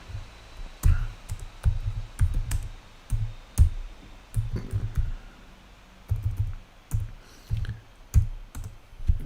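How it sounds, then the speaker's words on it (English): Typing on the small keyboard of a new laptop: close, sharp key clicks in uneven bursts with brief pauses, with no talking over them. "The keyboard is so tiny."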